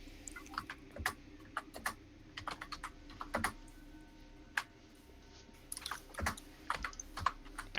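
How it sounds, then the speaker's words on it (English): Someone types on a computer keyboard nearby with rapid, irregular clicking keystrokes. The keys come in bursts separated by short pauses over a faint steady background hum. "I hear typing."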